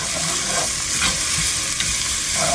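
Celery and mixed vegetables sautéing in a pot for oxtail stew, a loud, dense, continuous sizzle close up with brief stirring scrapes through it, and no voices.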